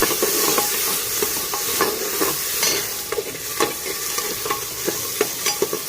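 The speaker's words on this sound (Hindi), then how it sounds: "अभी इसमें प्याज और टमाटर भून रहा है" Onion and tomato frying in a pan for aloo matar pulao, a steady close sizzle and hiss with repeated scraping stirs of a spoon against the pan throughout, no talking.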